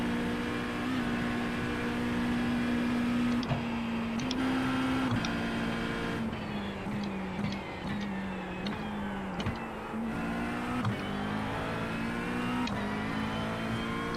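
McLaren race car in a video game lapping the Nürburgring Nordschleife, its engine a steady loud drone with a strong harmonic tone that dips and climbs through gear shifts and corners, continuous throughout with no talk.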